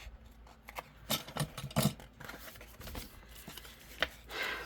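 Paper being cut with scissors in a papercraft project, a series of quiet, close snips and rustles in uneven bursts, with soft handling noise between cuts.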